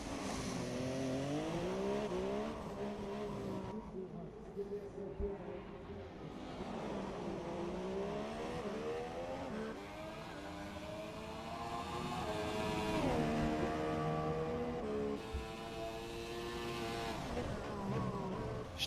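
A Formula 1 car laps the Monaco street circuit in qualifying. Its high engine whine rises and falls repeatedly through upshifts and braking for corners, loud and continuous for the whole stretch.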